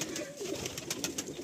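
Pigeons coo close by in a pigeon loft, a brief run of soft, throaty, rolling calls over faint background noise.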